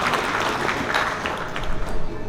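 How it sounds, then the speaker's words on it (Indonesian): Dense applause from an audience at a Bali provincial legislature (DPRD) session during the governor's speech, a steady wash of many hands clapping, loud and continuous for the whole moment. "Tepuk tangan untuk vaksinasi."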